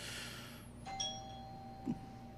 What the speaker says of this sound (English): that was a doorbell, I think.